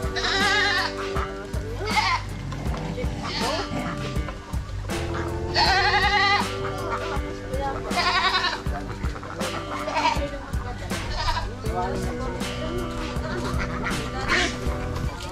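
A goat bleats loudly and repeatedly up close in a farm setting, its wavering calls recurring every couple of seconds, with some other animal noise and someone speaking in between.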